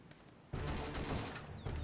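Video game gunfire in Garry's Mod, a sudden loud burst of rapid automatic shots that starts after a quiet half-second and rattles on, with a brief break before firing resumes.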